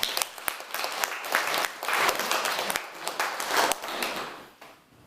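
A church congregation gathered for a women's mission society service bursts into sustained applause, many hands clapping loudly and continuously for several seconds before tapering off.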